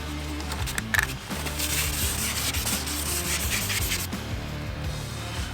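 Sandpaper of 600 grit rubs steadily across a car bumper to smooth out scratch and scuff repair putty, a continuous close-up scraping with brief pauses and no talking.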